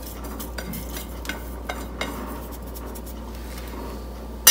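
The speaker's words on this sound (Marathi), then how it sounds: "आपण जे काही साहित्य घेतलं आहे ते सगळं मिक्स करून घेते" Light scraping and clinking of a spoon stirring rice flour noodle batter with ajwain, cumin powder, salt, asafoetida and sesame seeds, soft irregular taps against the bowl, close and quiet over faint background hum.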